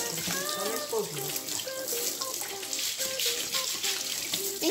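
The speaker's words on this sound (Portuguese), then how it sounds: "Vamos botar essa água da chuva, pelo menos tirar essa terra aí" Rainwater poured over a Mondial electric fan to rinse off dirt, a steady running splash of water like a tap filling a sink, continuous and fairly close, with faint voices and tonal sounds underneath.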